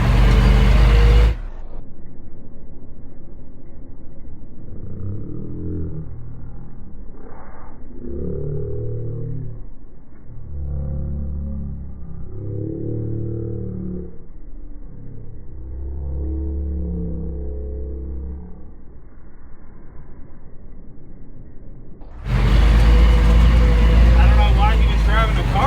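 A deuce military truck drives out to pull a stuck car free, its engine a muffled, low rumbling drone heard from inside for about twenty seconds, framed by louder bursts of rough noise at the start and end.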